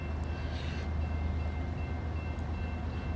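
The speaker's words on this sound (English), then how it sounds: "We got two heritage units for CSX on this auto rack coming up here, M216." A CSX auto rack freight train led by heritage locomotives approaches, its heavy low rumble and rolling rail noise continuous and fairly loud throughout.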